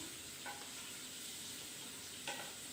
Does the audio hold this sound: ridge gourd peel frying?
yes